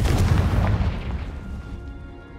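Confringo fire spell explosion in Hogwarts Legacy: a loud, booming blast with heavy low rumble that bursts at once and slowly fades over a couple of seconds, no voices.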